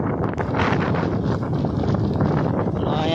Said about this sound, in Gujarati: પવન સારો આવે છે વાડી